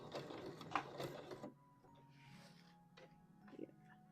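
A sewing machine stitching a wrap dress (Vogue V2000 pattern), a short burst of quiet mechanical whirring and ticking for about a second and a half, then stopping, leaving faint hum and small handling noises.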